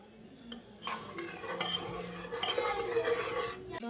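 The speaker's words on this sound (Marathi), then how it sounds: "आणि ह्याला एकदा हलवून घेते." A spoon stirs rice in a steel pot of boiling water in a home kitchen, with steady close scraping and clinking that grows busier toward the end, and no voices.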